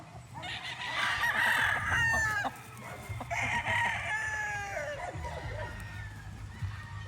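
Roosters crow loudly in overlapping calls, two long crows close by, with chickens clucking underneath and a faint murmur of background noise.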